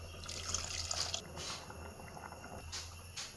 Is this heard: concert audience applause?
no